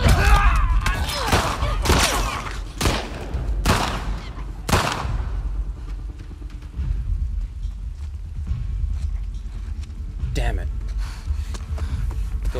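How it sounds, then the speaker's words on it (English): Gunfire in The Last of Us Part II during an ambush fight: a string of sharp, loud shots in the first few seconds, then quieter combat ambience with voices at times. "Get him, Jesse. Shoot his ass"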